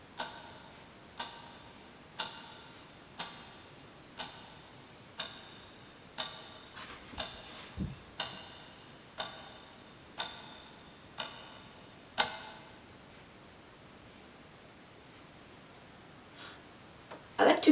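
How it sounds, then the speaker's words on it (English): A clock ticks steadily about once a second, close and fairly faint, over a quiet background; the ticking stops partway through, leaving near silence. "The clock is ticking."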